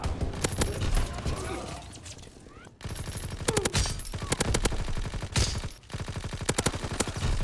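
Rapid automatic gunfire rattles through a Black Ops video game match, loud and close, in dense bursts broken by two brief pauses.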